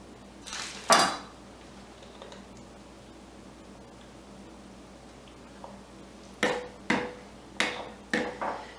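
A knife chops through a folded bunch of fresh cilantro on a cutting board for salsa: one crisp cut early on, then a quick run of about five sharp, close chops near the end, with quiet pauses and no talking.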